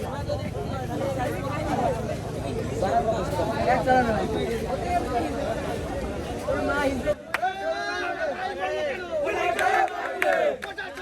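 A large, loud protest crowd chants slogans at police in unison after a fatal road accident on the Jhenaidah–Chuadanga road. Rhythmic shouted calls and responses continue without a break, with a brief dip partway through before the chanting surges again.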